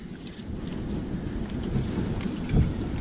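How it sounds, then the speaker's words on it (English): Wind gusts blowing outdoors during a truck brake job, a steady rushing noise with rain-like patter and a low rumble near the end, no talking. "Ooh, getting windy."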